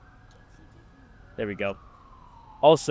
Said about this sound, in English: if you guys hear some sirens and some stuff in the background